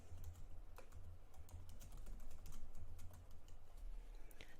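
A computer keyboard being typed on in quick, light, irregular keystrokes, near but soft, over a low steady hum. Nobody speaks.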